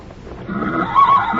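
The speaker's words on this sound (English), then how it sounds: "Where did you buy this horse" A pony neighs outdoors in a short, clear whinny that rises near the end, close and fairly loud over a soft rustling background.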